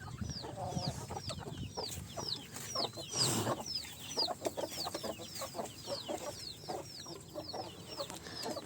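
Farm hens on a natural organic farm cluck continuously in a close, busy chorus of repeated short calls, with occasional louder squawks and faint rustling beneath, no speech.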